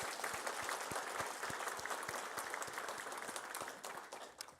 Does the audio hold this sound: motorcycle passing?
no